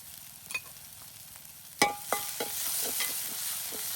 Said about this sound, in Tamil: அதே போல் வந்து வெங்காயம், போட்டு தாளிப்பேன்.